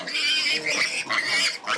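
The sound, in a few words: pigs grunting on a pig farm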